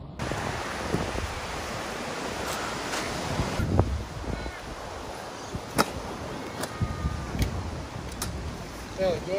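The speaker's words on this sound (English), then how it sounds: "Lukey, it's a bit windy." Wind rushes steadily across the microphone at a campsite at Glenbawn Dam as a broad, blustery roar, with a few faint clicks and knocks in the background.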